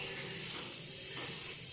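A pressure cooker of boiled lentils vents steam before being opened, giving a steady, loud, continuous hiss that holds evenly throughout.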